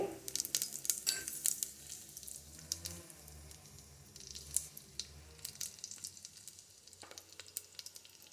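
Whole spices dropped into hot oil in a pan for rice: a soft crackling sizzle with scattered pops and a few light clinks, close but faint, with no speech.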